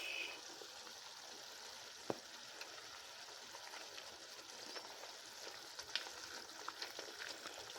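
Deer meat frying in a pan for chili, a steady soft sizzle with scattered crackles and a few sharp pops, fairly quiet and close, with no talking.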